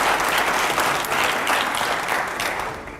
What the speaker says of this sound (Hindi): जोरदार तालियां हो जाए पहले तो।